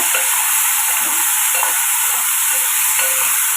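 Bottle gourd sautés in a very hot pan, giving a loud, steady, dense sizzling hiss that runs unbroken throughout, close up with no talk.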